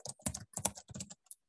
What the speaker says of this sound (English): Oops, why am I typing?